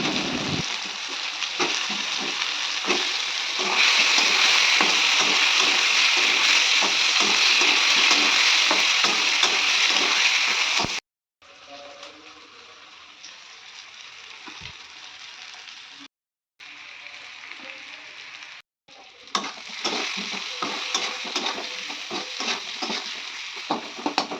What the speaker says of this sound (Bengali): সিদ্ধ করা আলুটাও তেলের মধ্যে দিয়ে দেবো, এটা ভাজা হতে থাকবে ততক্ষণে।